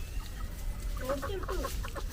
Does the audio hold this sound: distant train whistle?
no